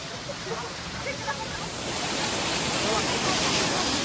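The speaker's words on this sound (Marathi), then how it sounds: "छोटासा धबधबा आहे" A constant, full rushing of falling water close by, steady and loud, growing slightly stronger toward the end.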